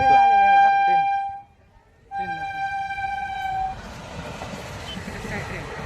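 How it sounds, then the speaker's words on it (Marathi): A train rumbles past with its horn blaring in two long blasts separated by a brief pause, followed by loud clattering wheel and carriage noise. "बघू शकता ट्रेन जात आहे."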